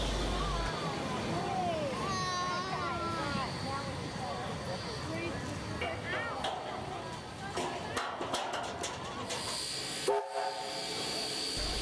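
Vintage locomotive 3526 at Thirlmere sounds its horn in a few rising, sliding blasts over low rail-yard rumble, with people talking in the background throughout.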